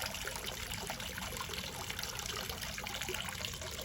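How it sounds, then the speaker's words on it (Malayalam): Water runs steadily into a fish tank at home, a continuous close trickling and splashing wash that stays even throughout, with no voices. "ഫിഷ് ടാങ്കിൽ വെള്ളം തിരിച്ചിട്ടുണ്ട്."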